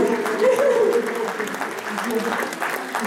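Audience applause at a charity concert in a theatre, a steady dense patter of many hands filling the hall, with a voice speaking over it in places.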